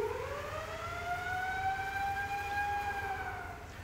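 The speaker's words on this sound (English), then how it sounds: "The little siren." A Wurlitzer theatre organ's siren effect gives a wailing tone slowly rising then easing down, steady and clear, sounding alone without voices.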